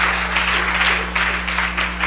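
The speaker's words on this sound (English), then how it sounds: "clap your hands if you're blessed" A church congregation claps, a dense and steady wash of many hands close by, with a low hum underneath.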